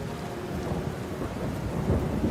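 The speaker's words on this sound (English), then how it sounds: "it started to rain and thunder" Thunder rumbles low and continuous beneath steady rain falling on surfaces, a dense stormy wash with no voices, moderately loud throughout the short stretch.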